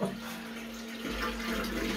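Beer wort pours and bubbles into a fermenter during a 100-litre homebrew ale batch: a steady, close splashing gush that thickens and grows fuller about halfway through, with no voices.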